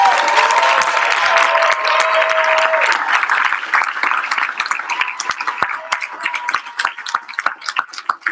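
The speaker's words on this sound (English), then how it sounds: "Please, everyone, give a really great round of applause for the second runner-up" Audience applause at the 2023 Three Minute Thesis championship for the second runner-up, a loud sustained burst of clapping that gradually thins toward the end, with faint tonal pings early on.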